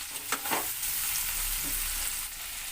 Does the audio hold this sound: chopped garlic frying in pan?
yes